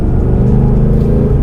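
A Ford Mustang with a 5.0 V8 driving on a race track, its engine a loud, deep, steady rumble up close with a throbbing low-pitched firing pulse.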